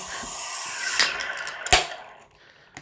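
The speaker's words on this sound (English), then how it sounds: "Let's give it a crack here." Can of Left Hand Brewing Galactic Cowboy Nitro imperial stout cracked open, a sustained hiss of escaping gas followed by a sharp click and snap of the tab, close and clear with no talk.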